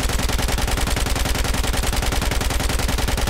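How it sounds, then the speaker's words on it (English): Light machine gun emptying a full magazine in Battlefield 4, a loud, unbroken stream of rapid automatic shots with an even, steady rhythm from start to finish and no talking. "Here's a full mag dump."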